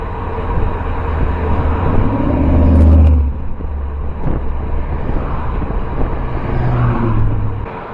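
A car on a rural road passes a cyclist with a loud low rumble that swells to a peak and fades, a second vehicle approaching near the end, with wind noise on the rider's microphone and no talking.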